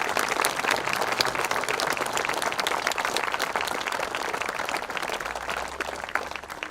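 An audience applauding at a Memorial Day ceremony after a musical performance, dense, continuous clapping from a crowd at moderate volume, holding steady and easing slightly toward the end.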